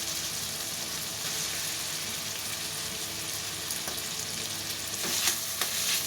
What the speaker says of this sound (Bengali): এবার একটু হালকা করে ভেজে নিব। মশলাগুলো খুব ভালোভাবে ভাজা হয়ে গেছে।